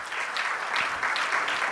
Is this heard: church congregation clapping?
yes